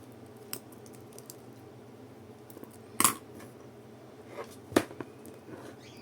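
Scissors cut crochet yarn while a crochet bag is being finished: two crisp, close snips a couple of seconds apart over a quiet room with faint handling rustles.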